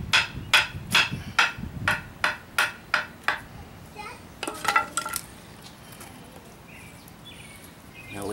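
Hard fatwood pine is split by striking, with about ten sharp, evenly spaced knocks close by, then a quick cluster of cracking hits before fading into quiet outdoor ambience with faint birds.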